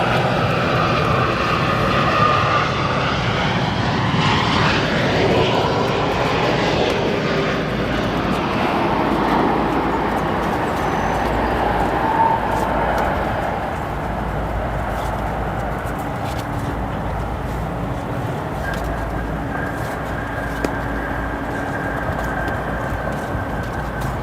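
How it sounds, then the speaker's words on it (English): A Boeing 787 Dreamliner lands at O'Hare with a loud, sustained jet roar, its whine shifting in pitch early on, then settling into a long steady rumble as reverse thrust runs and slowly eases off. "Here's our Dreamliner arrival here."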